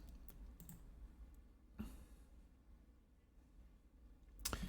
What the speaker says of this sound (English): And hit M on our keyboard.